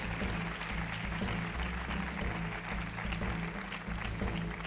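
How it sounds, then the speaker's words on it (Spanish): An audience applauds during a Mexicana Universal pageant gala, a steady mid-level wash of clapping with musical tones beneath it. "¡Aplausos!"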